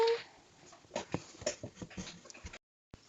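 A dog in a video game whimpers and yips in a series of short, high whines with soft panting-like breaths, fairly close, then it cuts off abruptly.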